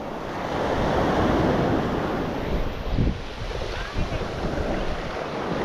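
Surf washing steadily over the beach at Manasota Key, a continuous near rush of breaking water with brief swells and some wind buffeting the microphone, no talking.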